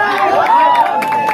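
A brief burst of crowd cheering and clapping at a motorcycle ride gathering in Assam, with shouting voices and chatter mixed in, loud and close over about a second.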